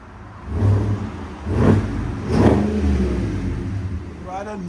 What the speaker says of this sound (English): just a nice, deep, beefy sound, Flowmaster FX is the way to go